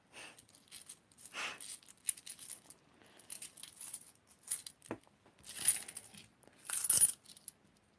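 Thirteen coins handled and dropped one after another, scattered light metallic clinks and jingles in separate bursts, close and fairly quiet with no talking.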